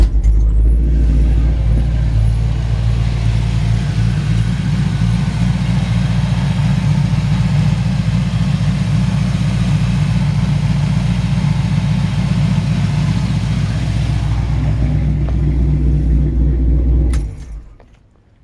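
The rebuilt engine of a 1971 Chevrolet Camaro runs at a steady deep idle, a loud, even low rumble that holds for about seventeen seconds before cutting off abruptly.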